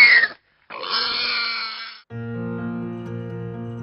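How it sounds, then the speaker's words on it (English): Pigs grunting on a farm in short, close calls, with a pause between them, followed by a steady droning hum underneath. "Pigs produce different sounds when they suck, sleep, and get sick."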